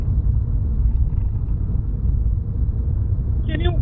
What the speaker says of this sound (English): It's harder to hear when I'm starting up my car.